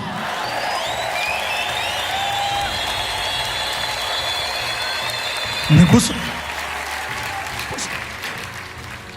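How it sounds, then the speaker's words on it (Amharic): A church congregation bursting into applause and ululation, a brief loud swell of clapping and trilling voices rising over a steady background, with someone speaking around it. "ታላቅ እልልታ፣ ጭብጨባ"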